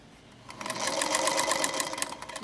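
A sewing machine runs a regular forward stitch, starting quietly then speeding into a steady, close, rapid mechanical chatter that continues on its own.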